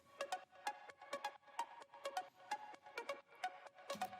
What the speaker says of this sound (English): I made like a pluck, which sounds like this on its own.